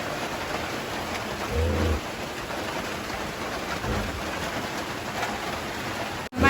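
Steady rain falls as a continuous, even hiss, fairly loud and close, with a brief low rumble early on and an abrupt cut near the end; no voices.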